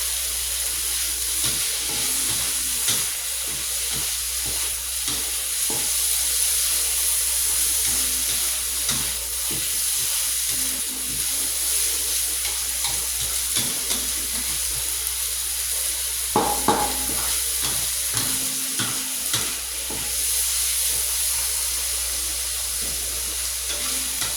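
Garlic and chili stir-frying in a hot pan while making a spicy bean sprout dish with chicken blood, a steady close sizzle and hiss with occasional scraping and stirring clatters, no voices.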